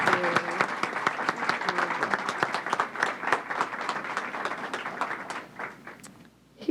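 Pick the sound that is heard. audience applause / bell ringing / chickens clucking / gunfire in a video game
audience applause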